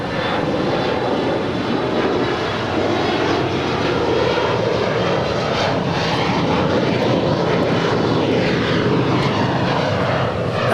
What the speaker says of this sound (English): 3373 departing to Santa Rosa on an Embraer E175LR